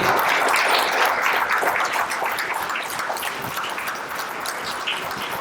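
A board of education meeting audience gives applause for young students, a steady crowd patter of many hands that eases slightly toward the end.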